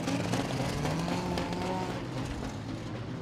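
A pack of race cars roars off at the green flag of a demolition enduro at Langley Speedway, running five wide down the front straightaway, a dense, sustained engine blare with a tire-squeal edge, loud and continuous.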